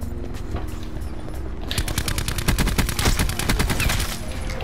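Rapid automatic gunfire from a weapon in Call of Duty Black Ops 4 rattles off in a fast, loud, even burst lasting a couple of seconds, preceded by quieter background game sounds.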